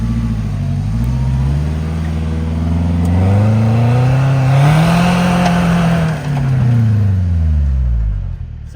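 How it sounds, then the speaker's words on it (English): A 4x4 truck with front and rear air lockers engaged in four-wheel drive revs loudly and close, its engine note climbing and falling over several seconds in a sustained, strained drone. "Now we're going to try four-wheel drive with both the front and rear lockers engaged."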